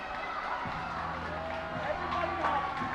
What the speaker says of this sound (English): The crowd getting back into it.